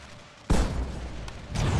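Cannon fire in a Great Britain campaign of a strategy game: one sharp, loud boom about midway, a fainter crack shortly after and another heavy blast near the end, each followed by a rumbling tail.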